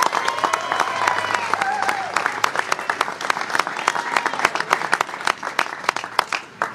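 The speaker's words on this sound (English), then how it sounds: "So let's give them a round of applause as well." Crowd at a Sacramento Kings rally clapping and cheering, starting as a full dense wash with some whoops, then thinning into scattered, sharper individual claps toward the end.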